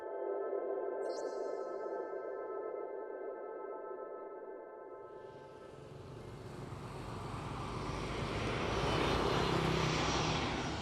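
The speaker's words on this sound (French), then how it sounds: "Johnny Chen, un New-Yorkais, décolle pour Hanoï, au Vietnam" Airplane taking off from New York bound for Hanoi: a steady high engine whine builds into a broad roaring rush of jet noise that swells louder toward the end, with no voices.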